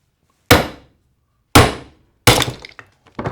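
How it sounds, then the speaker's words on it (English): A hatchet strikes a wooden block to chop a bevel, three sharp, loud, close chops spaced about a second apart, each with a quick decay, then a smaller knock at the end. "you would need to have a hatchet, and you want to put a slight bevel on one side of it."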